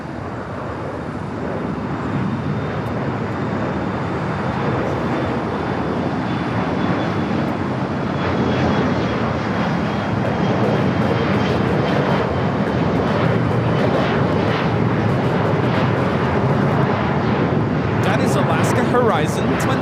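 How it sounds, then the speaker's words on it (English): A Horizon Embraer E175 jet in Washington State Cougars livery taking off at LAX, its engine roar building steadily and loud over the whole stretch, with people talking over it. "2128 taking off to Reno on the E175 Washington State Cougars livery."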